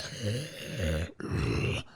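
A human voice imitating a Minecraft zombie's choking breathing sound: two drawn-out, strained, gurgling groans, close and fairly loud, with a short gap between them.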